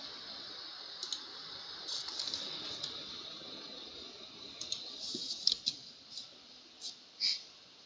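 Faint, scattered key clicks on a computer keyboard, including an Enter press, tap out irregularly in a quiet room, with a few sharper presses near the end.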